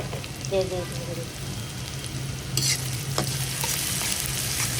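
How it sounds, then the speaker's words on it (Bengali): Chopped onion and green chillies sizzle in hot mustard oil with a steady crackle, joined by scraping stirring sounds and a few clinks partway through. "আমি রান্নাটা সরিষার তেলে করছি কিন্তু নেড়ে ছেড়ে নিব এখানে কাঁচামরিচ সহ পেঁয়াজ কুচি পুরাতে দিয়ে দিলাম"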